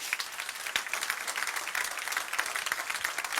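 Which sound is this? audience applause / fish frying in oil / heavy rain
audience applause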